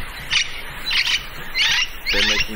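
Harsh bird squawks during mating season in the Belize jungle come in four loud bursts, roughly evenly spaced, over a steady outdoor background hum.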